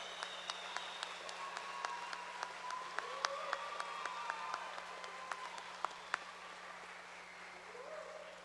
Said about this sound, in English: if you could give a round of applause to all of the folks that helped you get here